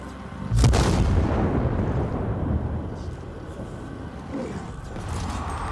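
A grenade goes off in Dying Light 2 with a sudden heavy boom, and its rumble fades slowly over several seconds. A voice talks faintly under it.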